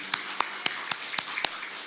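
Six or seven sharp, evenly spaced claps from a church congregation at a Sunday service ring out over a faint room hum, sparse and quiet rather than a full burst of applause.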